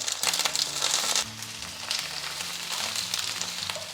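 Red, green and yellow peppers and onions stir-fry in light olive oil with a bright, crackling sizzle, with soft music playing underneath throughout.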